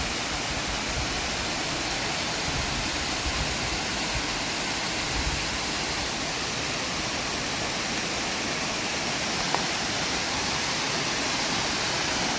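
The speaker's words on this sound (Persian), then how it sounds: "آبشاری." A forest waterfall pours into a pool in a steady, even hiss and rush, constant and unbroken from start to finish.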